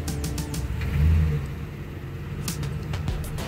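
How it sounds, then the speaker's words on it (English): A car creeping forward up a road incline during a hill-parking lesson, its medium engine rumbling steadily and swelling briefly as it pulls ahead, close by with no talk. "So let's move the vehicle forward again."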